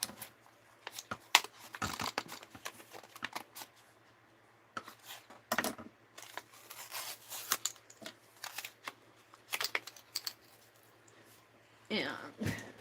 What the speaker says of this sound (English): We're gonna cut it open